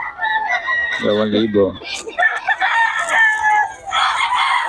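Roosters and chickens offered for sale crow and cluck at close range in two or three long calls, with someone speaking over and between them.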